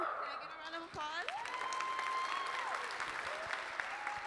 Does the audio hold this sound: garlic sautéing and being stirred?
no